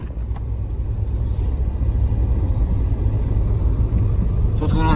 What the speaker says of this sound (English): I'm gonna drive him away now.